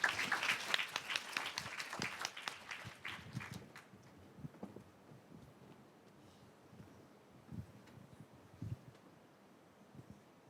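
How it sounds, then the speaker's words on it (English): Audience applause at a competition grand final on stage: a loud, dense burst of clapping for about four seconds that thins to scattered claps and faint room noise. "A round of applause, please."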